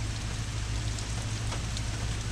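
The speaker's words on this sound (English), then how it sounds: "as you can see, the rain continues to intensify" Slow, steady rain falling outdoors, a dense even hiss of drops on surfaces with a low hum underneath and no voices.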